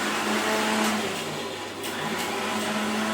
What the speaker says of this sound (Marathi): आता मिक्सरचा आवाज येईल तुम्हाला